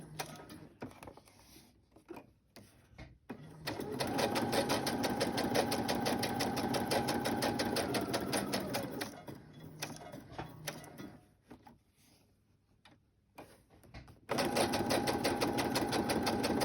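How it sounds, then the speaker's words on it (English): A sewing machine stitches an envelope closed, running in long steady bursts of rapid close mechanical whirring separated by quiet pauses and light handling noises. "So now this is sewing it closed."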